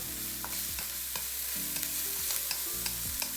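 Green onion whites, garlic and ginger sizzle in a hot pan, with a close, steady frying hiss broken by repeated stirring scrapes and taps, no voices.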